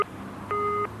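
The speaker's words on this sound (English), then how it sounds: "Is it still engaged?" A telephone engaged tone from a 1990s UK phone line: a short electronic beep, then a longer steady tone of about a third of a second, clear and alone with no talking.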